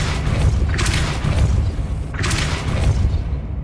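A Depulso spell is cast in the Hogwarts Legacy video game, two loud booming blasts about a second and a half apart over a dense rumbling background.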